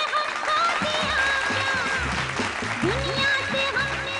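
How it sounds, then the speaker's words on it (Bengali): Studio audience clapping on a family game show, dense applause with cheering over music, continuous and loud throughout. "জোরে একটা হাততালি"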